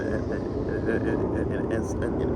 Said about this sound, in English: The planes going up, or the plane being loud and all that.